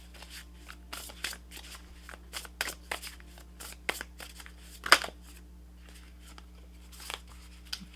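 Tarot cards are shuffled close by in quick bursts of soft riffling and flicking, with one sharper snap near the middle and short pauses between runs.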